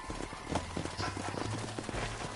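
Horse hooves clip-clop steadily in a Red Dead Redemption Old West scene, a quick rhythmic patter of several hoofbeats close by over a low rumbling background with no talk.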